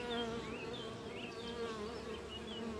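Honeybees at an opened hive with many drones, a dense steady buzz of numerous insects close by with wavering pitches, no talk.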